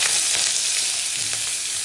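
Onion goes into hot oil with a dried red chilli and nigella seeds, and a loud, even hiss of frying fills the short moment close up, with faint stirring and no speech.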